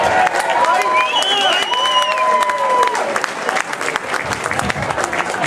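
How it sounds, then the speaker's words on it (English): Applause from an audience at a local news party, with clapping and a few cheers running steadily under a voice and crowd chatter. "how about another round of applause for our former mayor, Mike Sullivan, great guy."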